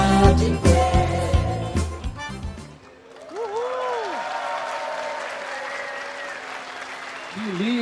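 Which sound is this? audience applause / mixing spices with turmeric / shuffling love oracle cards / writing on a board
audience applause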